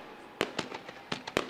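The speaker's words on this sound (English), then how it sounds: "Fireworks continuing to go off in the background." Fireworks go off in the background at Skagit Speedway during the Super Dirt Cup, a quick irregular series of about six sharp cracking bangs in a little over a second, with no talking.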